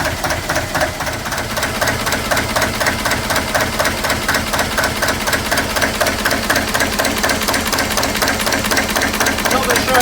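Single-cylinder engine running cold at idle with an uneven, slightly hunting beat, a steady close chatter of valvegear and knocking that fills the clip, with faint voices underneath.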